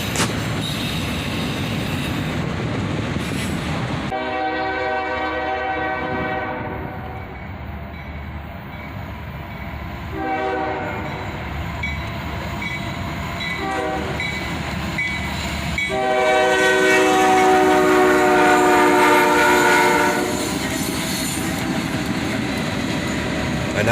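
A freight train led by an SD70MAC locomotive passes close by, sounding long, loud multi-tone horn blasts over a heavy rumble of wheels and cars. The horn comes in several sustained bursts, and no one speaks.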